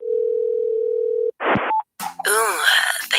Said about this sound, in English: So I'm going to make a phone call right now to the stimulus package hotline.